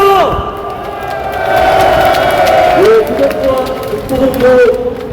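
A large crowd of union marchers in Yongsan, Seoul, claps and cheers at a moderate level under an amplified voice on a loudspeaker, with the noise swelling and easing over a few seconds.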